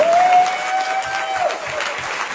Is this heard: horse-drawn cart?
no